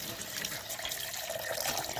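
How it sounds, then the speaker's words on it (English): Tap water runs steadily over fish being washed, a continuous splashing rush, close by and fairly loud, without any talking. "Get some more water on him."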